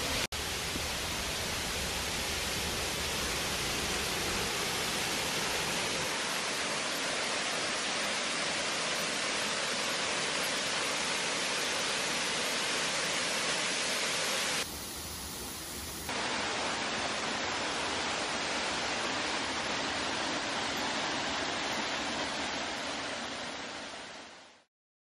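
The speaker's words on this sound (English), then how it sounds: "And then there's the waterfall." A waterfall on a brook in a wooded valley near abandoned mills, a dense continuous roar of falling water heard up close and steady throughout, briefly dipping midway and fading out at the end.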